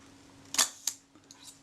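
The shutter of a Kodak Retina Reflex camera being serviced fires with a sharp close mechanical snap, followed by a second click and faint small mechanical ticks afterwards.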